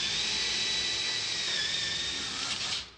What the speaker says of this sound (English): drills the hole for the magnet